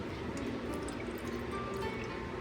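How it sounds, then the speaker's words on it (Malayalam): A cornflour, milk and sugar mix poured into a pan, a brief, quiet, steady liquid pour with faint dripping and no voices. "കോൺഫ്ലവറും പാലും പഞ്ചസാരയും ചേർന്ന മിക്സ് റെഡിയായിട്ടുണ്ട് ഇനി ഇതിനെ ഒരു പാനിലേക്ക് ഒഴിക്കാം"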